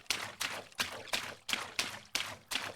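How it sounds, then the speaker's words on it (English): Footsteps across water in an Unreal Engine 5 demo: eight evenly spaced splashy steps, each a sharp wet slap with a short trickling tail, close and clear with nothing else behind them. "Now we hear water."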